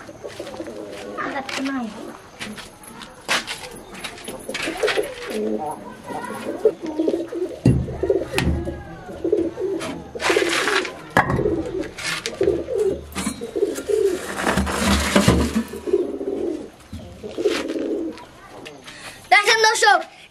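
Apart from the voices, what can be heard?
pigeons cooing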